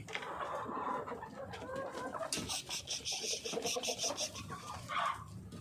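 Hens on a small backyard farm cluck and murmur as they head outside, with a few sharper calls rising near the end, close by amid faint background noise and a little talk.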